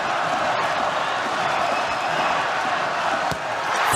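Arena crowd at a Denmark versus Croatia handball world championship final, a dense steady roar of Danish and Croatian fans with no letup, loud and close throughout.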